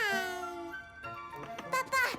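A long, high meow opens, sounding like a voice imitating a cat, followed by quick overlapping speech-like sounds.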